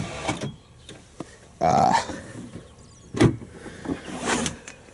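A truck's power door lock mechanism whirs and clunks a few times while unlocking, short motorized bursts with quiet pauses between, close by.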